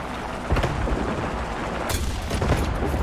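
A tank cannon shot fired at a Ferdinand in War Thunder, heard as sharp booming blasts over a dense, constant rumble of battle noise, with bursts near the start and middle.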